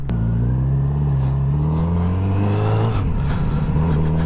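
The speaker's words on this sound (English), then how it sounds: "The sound this bike makes is really good." Kawasaki Z900RS four-cylinder motorcycle engine running loud and close while riding, a steady throbbing drone that climbs slightly in pitch, then dips and settles as revs change.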